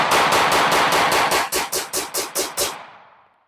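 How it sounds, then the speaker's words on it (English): A Smith & Wesson Shield Plus 9mm pistol firing Fiocchi ammunition in a fast string of about a dozen loud, close shots, steady and rapid, ending in a short fading echo. "I'm going to shoot as fast as I can"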